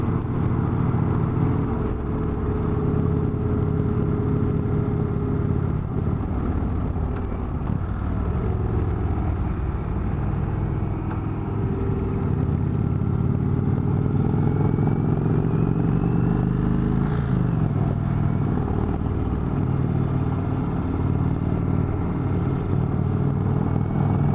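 An Indian Chieftain motorcycle is ridden at speed, its engine drone and transmission running loud and steady throughout with wind rush and no talking.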